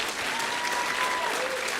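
Audience applause at a Cherokee children's ambassador competition, following a young girl's pinch pot demonstration; a full, steady round of clapping fills the whole moment, dense and even, with a faint voice underneath.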